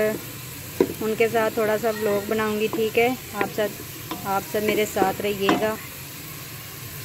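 Onions browning in hot oil in a home kitchen pan, sizzling steadily under someone speaking Hindi throughout.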